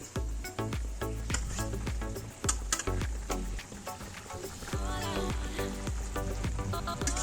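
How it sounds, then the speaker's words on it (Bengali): Pomfret fish goes into a simmering Bengali-style spicy fish curry with green chillies, giving a steady bubbling sizzle broken by soft pops and clicks throughout. "ঝোলটা একটু ফুটে উঠুক তারপরে মাছগুলো দেবো এবার মাছগুলো ছেড়ে দেবো"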